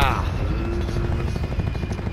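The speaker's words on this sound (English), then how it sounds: "Get me an attack helicopter." An attack helicopter in the video game Call of Duty Black Ops 4 gives a steady rotor drone with fluttering beats, heard fairly close under game sounds.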